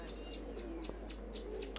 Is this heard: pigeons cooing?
yes